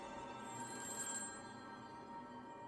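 A telephone rings faintly in the background, a thin electronic ringing set against a steady low hum, with no voices.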